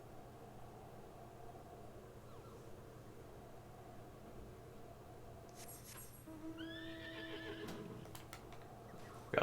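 A six-legged horse mount in Final Fantasy XIV neighs, a whinny rising late over a steady background hum with faint clopping, then a brief loud knock at the end.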